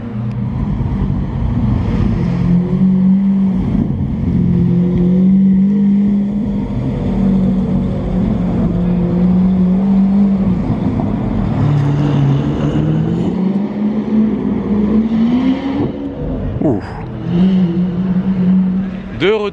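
A GT3 sports car passing on the streets of Monaco, a loud, steady engine roar with shifting pitch as it revs and moves by, close and dense for the whole stretch with street noise mixed in.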